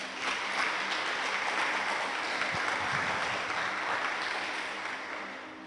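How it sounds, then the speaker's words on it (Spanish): Congregation clapping in a church service, a thick continuous roar of many hands at steady volume that eases slightly toward the end. "Dámosle palmas al Señor, amados"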